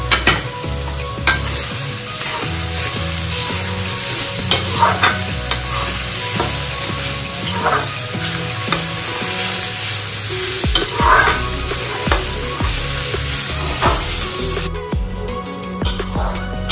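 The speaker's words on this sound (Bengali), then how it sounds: "যতক্ষণ না ব্রাউন কালার আসবে ততক্ষণ ভাজতে থাকতে হবে" Cauliflower pieces fry in a pan being stirred until brown, with loud close sizzling and repeated scraping and clattering of a spoon against the pan throughout; the sizzle cuts out abruptly near the end.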